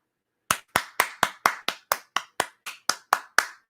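Twelve sharp hand claps ring out alone at a steady, slightly uneven pace, each one crisp and close, with silence before the first.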